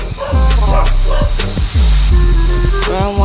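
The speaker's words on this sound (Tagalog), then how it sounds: "Tawag ng tawag yung aso, nakakabanas" A dog barks repeatedly at close range, sharp loud yaps coming in quick bursts with short gaps between them.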